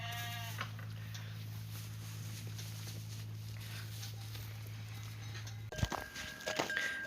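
Ewes in a winter sheepfold bleat, one brief call at the start and a cluster of louder, nearby bleats near the end, with a steady low hum and some shuffling between.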